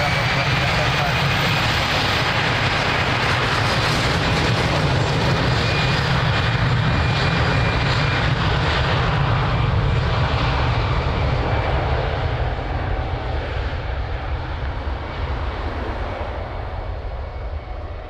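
An airliner takes off from runway 02 at Lisbon Airport bound for Funchal, Madeira, its loud, sustained engine roar building and then slowly fading toward the end, with a voice briefly audible under it.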